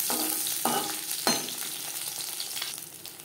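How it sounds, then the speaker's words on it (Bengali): Fish frying crisply in oil sputters with a close, continuous sizzle, broken by a few sharp crackling bursts as the pieces are turned over. "দু তিনবার উল্টে পাল্টে মাছ ক্রিস্পি করে ভেজে নেব"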